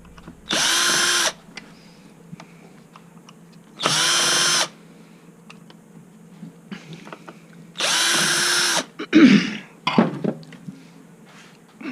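A power drill spins out screws holding a motor and gearbox during a battery connection repair, three short separate whirring bursts with quiet handling clicks between them and brief clattering at the end.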